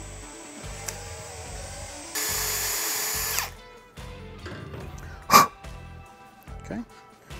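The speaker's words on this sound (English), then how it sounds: "I like to chuck up on a half inch drill bit," A short burst of power drill whine with a half-inch bit, building a Rascal GT Cruiser minibike, stands out amid quieter workshop noises, with a sharp knock or thump shortly after.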